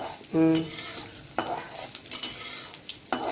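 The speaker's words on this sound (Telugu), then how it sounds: "ఒక మూడు మిరపకాయలు వేసి ఒక్క నిమిషం వేయించుకోవాలి" Three chillies fry in a pan for lemon rice tempering, a brief tonal blip giving way to a busy sizzle with scattered metallic scrapes and clinks of stirring, close and fairly loud.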